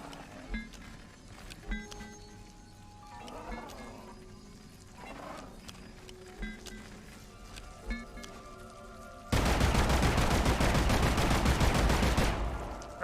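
Gunshots in a survival video game, heard as a few scattered sharp cracks over ambient game sound, then a loud sustained burst of rapid gunfire near the end.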